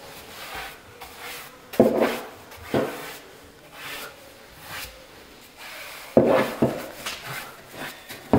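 Dandy brush sweeping dirt and dust out of the bottom of a horse tack locker, a series of short scratchy bristle strokes and scrapes on wood, close and irregular, with quiet gaps between.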